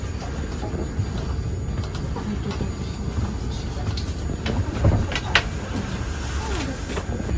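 Interior of a moving PKP Intercity train carriage travelling from Warsaw to Malbork, with a steady low rumble of wheels on rails and occasional clunks and rattles throughout.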